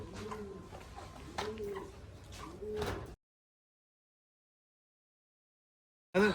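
Pigeons coo softly in a rhythmic series of three close calls on a farm that also keeps chickens, followed by a long silence and a final brief coo.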